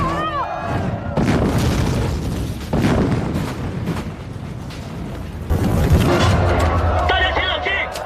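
Loud explosive booms and rumbling blasts burst out in a live-action drama scene, set against music and mixed sound effects.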